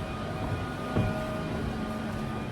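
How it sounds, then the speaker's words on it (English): Inside a London train carriage at a station, a steady low rumble and hum with faint tonal whine and a small clunk partway through, with no talking. "what we're doing now is we're going to take this train here back up to Kentish Town"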